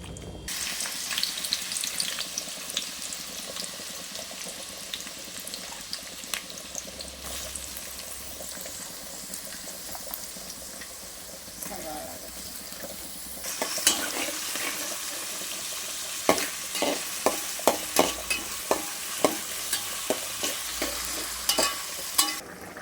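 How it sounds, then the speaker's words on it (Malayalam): Chicken curry bubbles at a rolling boil in a large pot, a steady low simmer that grows livelier with rapid popping bursts toward the end, close and without talk. "തിളച്ച് മറിഞ്ഞുകൊണ്ടിരിക്കുന്ന ചിക്കൻ കറി."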